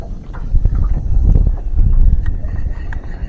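Steady, loud wind buffets the microphone at a lake during bream fishing, a continuous low rumble with gusty swells and no talking.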